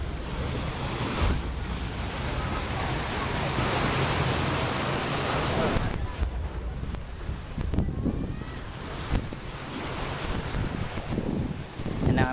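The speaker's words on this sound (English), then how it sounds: "that sound of the waves and the feel of everything" Ocean waves break on a Hawaii beach in loud, rolling surges of surf, with gusts of wind buffeting the microphone and the roar easing and swelling over several seconds.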